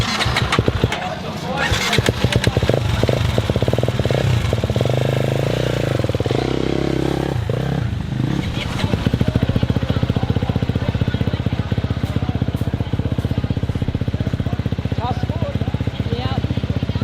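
A motorcycle engine fires up and settles into a loud, close, uneven running note as the rider sets off. A voice talks over the engine.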